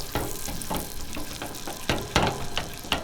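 Eggs being whisked and scrambled in a hot pan, a steady sizzle under repeated scraping strokes of the whisk against the pan, close and fairly quiet with no talking.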